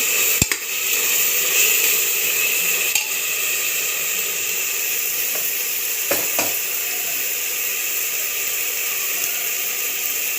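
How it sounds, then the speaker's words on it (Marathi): Ginger, garlic, green chili and coriander paste with turmeric sizzling in hot oil for mutton biryani, a steady close frying hiss broken by a few sharp clicks of a spoon against the pan. "थोडीशी हळद टाकते छान तेलात परतून घ्यायचं"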